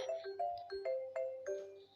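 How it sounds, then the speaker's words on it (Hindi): Phone ringing with a repeating melodic tone, five or six bright chiming notes in a steady rhythm, clear and close with nothing else heard. "तभी जिया के फोन की घंटी बजने लगी।"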